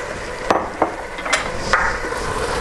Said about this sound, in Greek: και ανακατεύουμε